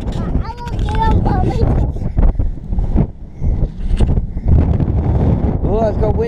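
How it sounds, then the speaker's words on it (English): Outdoor wind gusts buffet the microphone of a GoPro camera with loud, low rumbling bursts, while people talk and call out over the blustery noise. "Oh, it's got windy, isn't it? Feel that wind?"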